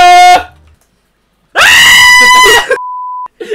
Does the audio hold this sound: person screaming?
yes